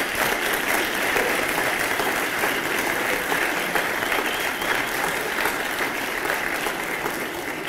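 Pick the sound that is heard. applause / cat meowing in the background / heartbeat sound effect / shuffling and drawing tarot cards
applause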